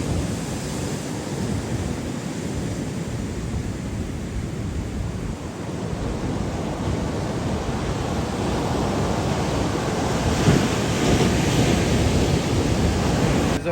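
Surf at T-Rex Beach on Nusa Penida, Bali, roars as a steady, dense wash of breaking waves, with wind buffeting the microphone throughout and a slight swell in loudness toward the end; no voices.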